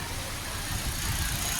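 Hyundai Verna engine idling steadily just after starting, a low even rumble with a faint broadband hiss, close and continuous with no talk.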